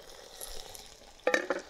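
Potatoes fry quietly in a pan of vegetable oil and butter, a soft, steady sizzle broken near the end by a few sharp clatters, as if a utensil knocks against the pan.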